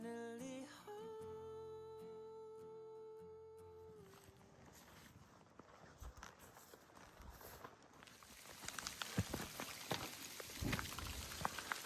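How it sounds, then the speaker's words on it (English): Hailstones patter and rattle against the ground during an archery hunt in the Colorado backcountry. The impacts start sparse and grow into a dense, loud clatter after a brief musical tone at the start. "Another hailstorm."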